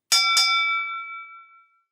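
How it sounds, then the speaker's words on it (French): A small, thin door bell with a cracked tone, struck twice in quick succession, then a bright ringing that hangs on and slowly fades out, heard alone. "Grêle, avec un son fêlé, une cloche tinta."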